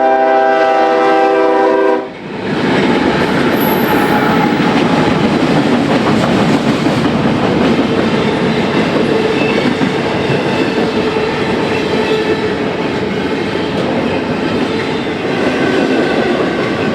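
A CSX freight train at Pine Junction opens with a loud, sustained horn blast, then roars close by in a heavy, continuous rumble of wheels and cars that stays loud to the end.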